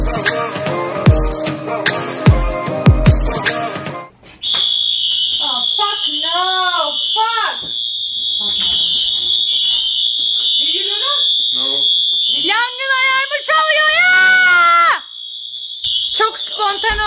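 A fire alarm in a home on an island in America blares a steady, piercing electronic tone, preceded by loud rhythmic beeping, while people talk and someone shouts over it.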